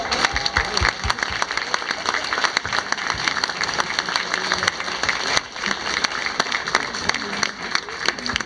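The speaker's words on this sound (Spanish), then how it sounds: "le den un fuerte aplauso." Strong applause from an audience for an orchestra and the choir of a university faculty of accounting and administration, dense steady clapping sustained throughout with a brief dip near the middle.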